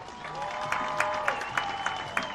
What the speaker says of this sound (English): Have a nice round of applause for the Warren Sports Hall of Fame class of 2018.